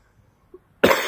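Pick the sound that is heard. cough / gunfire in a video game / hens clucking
cough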